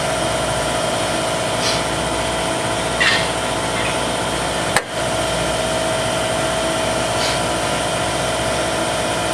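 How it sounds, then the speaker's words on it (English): A smoke machine pressurises an engine's vacuum lines with smoke. It gives a steady mechanical drone and hiss throughout, with a single sharp click partway through and faint brief chirps above. "sometimes with the smoke machine, it can take some time to fill the whole system with smoke under pressure"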